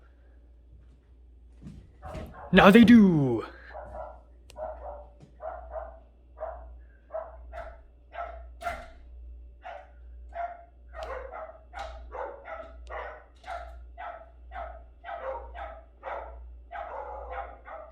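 Dogs bark outdoors: one loud, close bark breaks out, then a long run of steady, rhythmic barks at moderate distance, and a voice speaks briefly.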